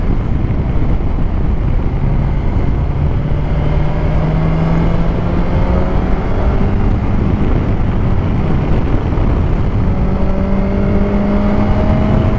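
A 2021 BMW S1000XR motorcycle cruises along a road, its engine drone steady and droning beneath heavy, constant wind rush at the helmet, with slow gentle pitch shifts as it holds speed.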